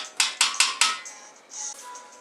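A metal spoon stirs a partial-mash boil pot for a dark beer, scraping the pot in four quick, close strokes, followed by softer, lingering swishes.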